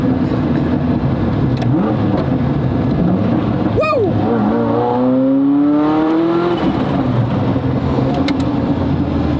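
A Liberty Walk car's engine revs hard through first and second gear in Japanese traffic, with rising pitch sweeps and a gear change, loud and close from inside the cabin.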